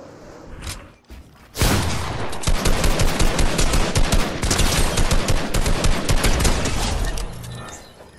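Rapid automatic gunfire from the video game Fortnite rattles in a loud, dense, sustained burst lasting several seconds after a few single shots, close and dominant, fading out at the end.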